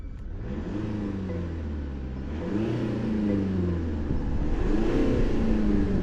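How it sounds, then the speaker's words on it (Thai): A 2026 Mercedes-Benz C220d diesel engine revs up close, its low rumble climbing in pitch twice and settling back, steady and fairly loud with no talking. "นี่คือเสียงดีเซล"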